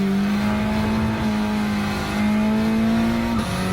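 A race car engine in Gran Turismo 7 revs loud and close, its pitch climbing steadily as it accelerates through a gear, then dropping sharply with a shift near the end.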